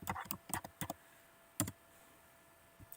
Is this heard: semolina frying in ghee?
no